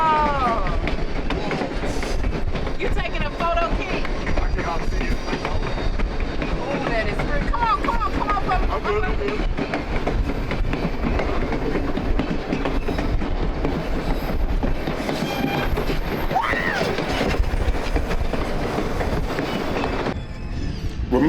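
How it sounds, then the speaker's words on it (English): An old steam locomotive train rolls past loudly and continuously, with rumbling wheels and rhythmic clatter, some squealing, and people's voices faintly mixed in, in Skagway, Alaska. "This is the old steam locomotive."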